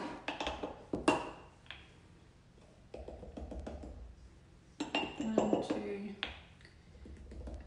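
Flour spooned into a mug for a mug cake, three tablespoons' worth, with soft scrapes and sharp clinks of a metal spoon against the mug and bowl coming in irregular bursts.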